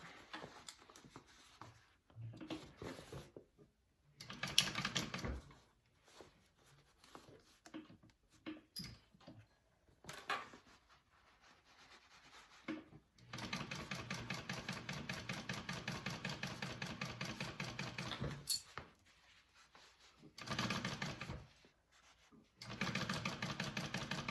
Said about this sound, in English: sew down my inside seam again, flattening it out